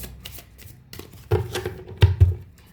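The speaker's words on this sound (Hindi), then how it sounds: "So I'm shuffling the cards for you." Tarot cards being shuffled by hand during a reading, a soft papery riffle that starts faint and builds into louder slaps and flutters near the end, close up with no talking.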